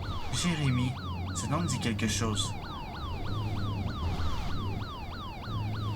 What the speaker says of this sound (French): Désolé pour cette sirène qui arrête pas de se répéter en boucle et qui se coupe et qui redémarre.